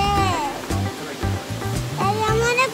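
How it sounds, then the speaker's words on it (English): A waterfall in Shenandoah National Park gives a steady, rushing wash of water that runs beneath the chatter of children and adults talking nearby. "Do you like waterfalls?"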